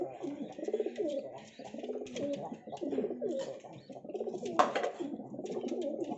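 Pigeons coo close by in repeated low, throaty phrases, several rolling calls in a row with brief pauses between, fairly quiet overall with small clicks and handling noise mixed in.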